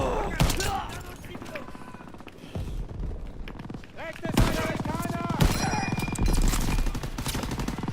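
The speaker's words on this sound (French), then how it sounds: "Je vais balancer ma grenade dans la tronche." Call of Duty WWII battle sounds with gunshots, explosions and a thrown grenade amid dense combat noise, loud and continuous, with someone talking over it.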